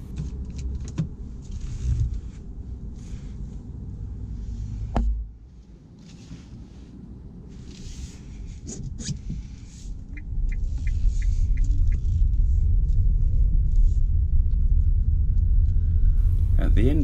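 An automatic car pulls away on a UK driving test, a steady low engine and road rumble building louder and holding through the second half, with a brief clunk near the start and a voice talking over it.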